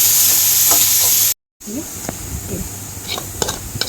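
Peanuts frying in a pan give a loud, steady, hissing sizzle with scattered stirring scrapes and clicks, broken by a brief silent dropout.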